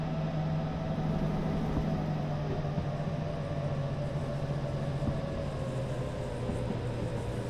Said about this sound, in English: You can hear the wheels, you know, they're complaining a little bit about that.